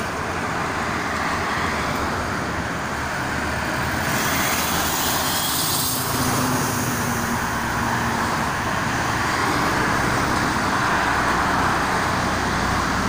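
Busy night traffic on the Jakarta-Cikampek toll road, a dense continuous roar of cars, trucks and buses passing, with a steady wash of tyre and engine noise.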